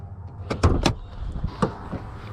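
Someone climbs out of a 2021 Dodge Charger GT and opens the hood, with a few close, sharp thumps and clunks of doors and latches over a quiet background.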